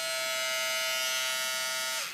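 A Philips Norelco beard trimmer switches on and runs with a steady, even electric buzz close to the mic, then spins down at the end.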